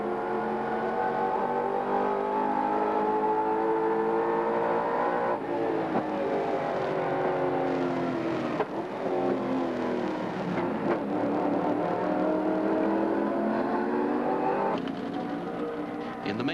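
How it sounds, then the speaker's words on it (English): Holden Commodore race car at the 1990 Tooheys 1000 at Mount Panorama, Bathurst, lapping quickly through traffic: a loud, sustained engine note rising and falling through gear changes as it accelerates and brakes around the circuit, with no talk. "The sounds and the sight of a very quick lap here in traffic."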